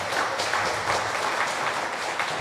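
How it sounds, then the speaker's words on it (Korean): Audience applause welcoming a guest speaker to a lecture in Gyeongju, a steady sustained wash of many hands clapping at moderate distance, filling the whole stretch without any voices. "큰 박수 부탁드립니다"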